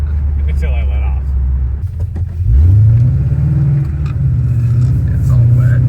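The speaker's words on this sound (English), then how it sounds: "Yeah, definitely got a drive shaft vibration." A Coyote V8-swapped car rumbles close by with a deep engine drone, rising into a strong rev partway through, while a driveshaft vibration rides on the sound and people talk over it.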